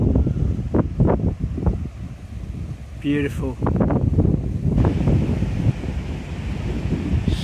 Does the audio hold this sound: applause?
no